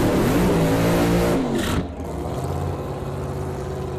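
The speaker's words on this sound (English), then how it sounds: "Open your eyes, cover your ears during the burnouts. These cars are very loud," A JS Power Sports 1957 Chevrolet drag race car does a burnout, a very loud, close, roaring engine sound that holds steady, cuts out sharply, then settles into a lower, rumbling idle.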